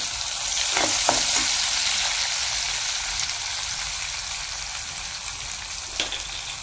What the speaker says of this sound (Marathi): थोडंसं हिंग हे चांगलं भाजलं की